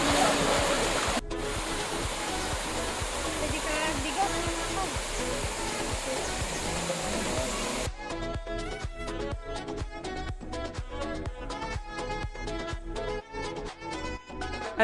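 Usucon Falls roars as a steady, dense rush of falling water that fills the first half, then music takes over.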